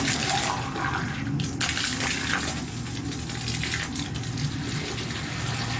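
Water runs from a garden hose in a continuous, steady gushing stream, fairly close and uninterrupted throughout.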